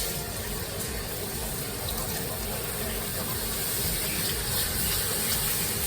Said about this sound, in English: So it's time to go ahead and put the milk in.